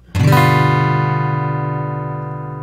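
A single strummed G seventh chord on acoustic guitar rings out and slowly decays, sustaining alone for a couple of seconds.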